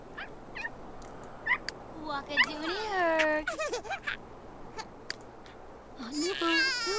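A crying baby in The Sims 3 wails in rising, wavering bursts at middle distance over a low steady game hum, with brief clicks and a second louder cry near the end.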